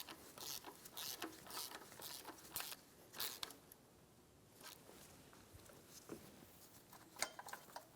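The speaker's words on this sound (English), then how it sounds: "Using a 12 millimeter socket, loosen the tensioner pulley." A 12 mm socket ratchet loosens the tensioner pulley on a 2003-2007 Infiniti G35 during a water pump job, giving quiet, repeated clicking ratchet strokes in short bursts with pauses between them.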